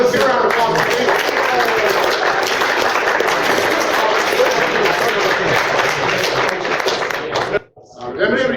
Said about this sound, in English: Let's give a round of applause for Steven.